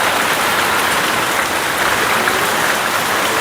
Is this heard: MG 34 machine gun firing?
no